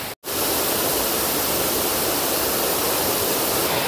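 A waterfall in Croatia roars as a loud, steady broadband rush that fills the whole stretch after a very brief dropout at the start, heard up close with no talk.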